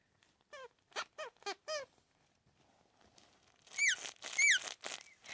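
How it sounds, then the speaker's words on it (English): Two squeakers inside toy clowns, one in a jack-in-the-box, give off a quick run of four bright, close squeaks. After a short pause, two or three louder, rougher honking squeaks follow. "But they've both got squeakers in them. And like their squeaker sounds are different too."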